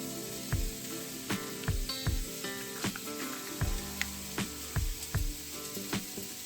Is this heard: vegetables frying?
yes